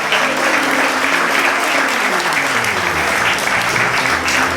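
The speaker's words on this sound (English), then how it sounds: "Give our stars one more big round of applause." Loud, dense audience applause fills the room at the close of a comedy hypnotist's stage show, steady and sustained throughout with no voices on top.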